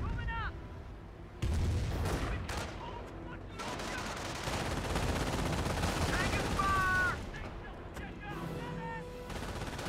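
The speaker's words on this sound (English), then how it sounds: "30 cal firing away" A .30 cal machine gun in Company of Heroes rattles off sustained bursts over a dense battlefield din of booms and gunfire, with voices talking over it.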